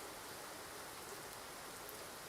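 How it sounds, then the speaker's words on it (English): Steady, even rain hisses in the X-Plane 12 flight simulator, a soft, continuous patter without breaks or voices. "You can hear the rain coming down."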